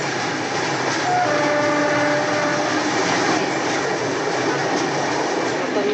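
A Ranchi Kamakhya Express passenger train rumbles past at steady loud volume, with continuous wheel and rail noise and a long held horn-like tone partway through.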